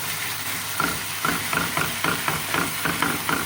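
Chicken sizzling and frying in a pan, a steady close hiss with rhythmic stirring scrapes every half second or so.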